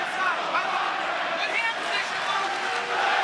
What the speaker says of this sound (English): Let's go Weidman chant reading through the crowd.